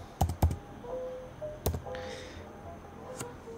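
Keys clack on a computer keyboard in a few separate, close taps and short bursts, with a faint electronic tone and quiet room noise between them.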